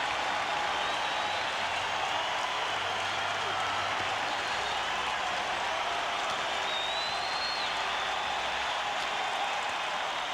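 A packed hockey arena roars and applauds after a Boston Bruins goal against the Pittsburgh Penguins in the 1991 playoffs, a loud, sustained wall of cheering with faint whistles over it.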